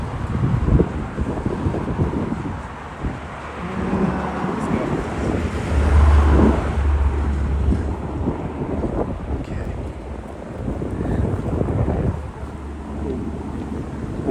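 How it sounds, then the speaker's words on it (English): Cars pass quickly along a road by Branch Brook Park, a loud continuous rush of traffic with heavy wind buffeting the microphone and a voice talking over it. "It doesn't help that the cars come pretty fast through here."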